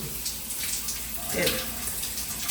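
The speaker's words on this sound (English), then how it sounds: "Now turning on the shower. Water pressure actually feels pretty decent." A hotel shower at a Sleep Inn near Spokane airport runs with a steady broadband hiss of spraying water, fairly even throughout with a brief swell near the middle, heard close up in a small bathroom.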